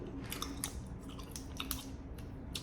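Gum from a Polish military MRE is chewed close up, giving irregular crunchy, wet bites over a steady background hiss, with no talking.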